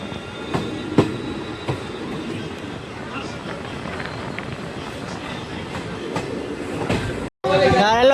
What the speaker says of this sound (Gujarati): આ છે કંઈક રાણાવાવનું રેલવે સ્ટેશન.